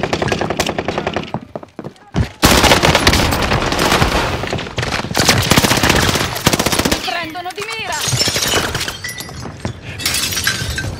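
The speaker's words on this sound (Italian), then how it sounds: "Mi sparano addosso." Rapid automatic gunfire from a battle royale shooter, loud and sustained in close bursts alongside crackling impacts and glass-like shatter, with players talking over the shooting.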